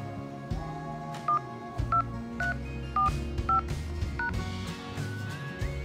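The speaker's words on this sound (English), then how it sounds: "Enter your PIN and press the pound key." Telephone keypad tones from an automated workforce scheduling phone line as a PIN and pound key are entered: a quick series of short, clear beeps at irregular intervals over a steady background hum.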